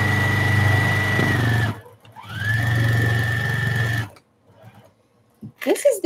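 A sewing machine stitching fabric while preparing items for a craft fair runs in two steady motor-driven bursts with a sustained whirring hum and brief pauses, close and loud. A voice speaks briefly near the end.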